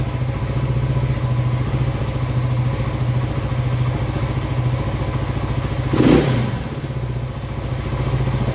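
1982 Yamaha XT200 motorcycle engine running at a steady, loud, close idle with a fast pulsing thrum and one brief rev or thump midway.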